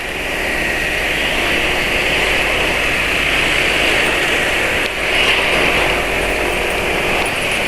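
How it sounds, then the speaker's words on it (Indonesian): A motorcycle engine being tested with engine oil is revved hard in a continuous loud roar, steady and close for several seconds with a brief dip near the end. "Ini sekarang penulis lagi geber-geberan ya"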